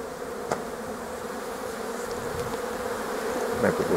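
Honeybees swarm and hum around a hive at an apiary on a March day, a dense, steady close buzz with individual bees flying past.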